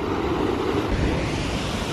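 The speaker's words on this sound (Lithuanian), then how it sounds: "Čia tave uždaužys bangos." Ocean waves surge against the rocky shore of Nusa Penida, Bali, a loud, close, continuous wash and roar mixed with wind buffeting the microphone, no talking.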